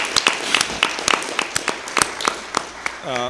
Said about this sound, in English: if you would join me in a round of applause, thanking him for his service.